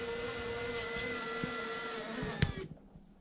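A Warn 9.5 cti winch on a TRX-4 RC truck whines steadily as it pulls the truck up, a thin high electric motor drone that stops abruptly near the end.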